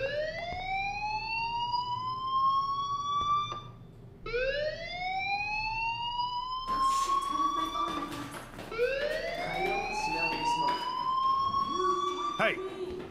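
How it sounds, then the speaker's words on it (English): Fire alarm from the video game Life is Strange, a loud siren that wails upward in repeated long rising sweeps, with voices talking through it near the end. "Do you hear that fire alarm?"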